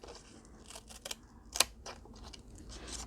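Scissors snip through paper during a scrap-paper notebook craft: a quiet run of short, uneven cuts, with one sharper crisp snip standing out in a close, soft indoor setting.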